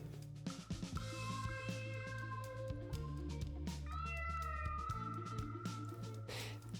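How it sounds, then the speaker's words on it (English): A cat meows angrily in drawn-out, wavering yowls, loud and close over a steady low hum, with two long cries separated by a brief pause. "It sounds like an angry cat."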